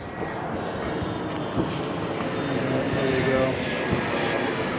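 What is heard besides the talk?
airplanes flying over the neighborhood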